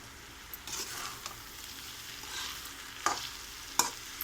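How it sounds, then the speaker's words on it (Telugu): A spoon stirs ridge gourd with moong dal and chana dal, salted, in a pan: soft scraping and light sizzle, with a few sharper clinks against the metal near the end. "ఇప్పుడు కలిపేసుకుందామండి."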